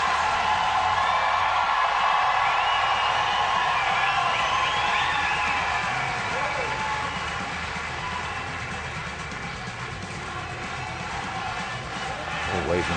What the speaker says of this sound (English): Home crowd getting very into this performance.